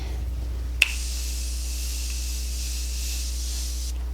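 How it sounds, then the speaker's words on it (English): A sharp click followed by a steady, close hissing spray of foundation makeup lasting about three seconds, then it stops abruptly. "This foundation, let's spray it"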